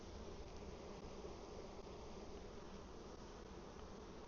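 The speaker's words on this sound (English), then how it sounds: "All the bees on the inner cover, they're all bringing in some orange pollen." Honey bees crowding the inner cover of a hive, a dense, even buzzing drone that stays steady and faint throughout with no voices.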